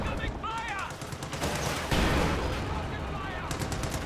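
MG34 machine gun fire from a Fallschirmjäger squad in the video game Company of Heroes 2, dense rapid bursts of gunfire mixed with other battle shots, loud and continuous, with a commentator talking over it.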